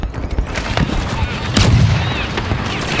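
Automatic gun firing in a video game, a dense run of loud, booming shots with a heavier burst around the middle, under steady game noise.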